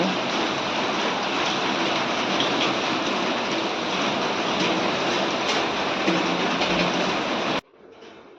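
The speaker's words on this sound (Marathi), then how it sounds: "खूप जोरात पाऊस पडतो आहे" Sudden heavy rain in the morning pours in a dense, steady roar close by, with no voices, then cuts off abruptly near the end.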